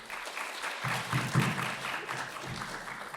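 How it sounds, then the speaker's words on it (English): Applause from a cinema audience for a horror film's director at a post-screening Q&A, a steady wash of clapping from a modest crowd, moderately loud throughout. "Can you give Jonathan a round of applause, please, first of all?"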